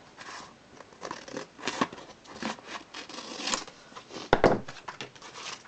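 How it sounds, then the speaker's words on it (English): Scissors cut down the side of a sheet of junk journal paper in a series of crisp snips and rustling slides, close and fairly quiet, with one sharper louder cut near the end. "I'm just going to cut down this side"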